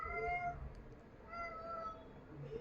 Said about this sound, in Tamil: பூனை வாய மூடுறா பூனை.